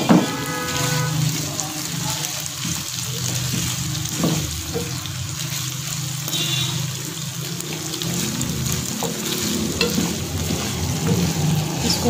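Chicken macaroni with ketchup is stirred in a sizzling pan: a steady loud hiss of frying under repeated soft scrapes and knocks of the spoon, continuing throughout without talk.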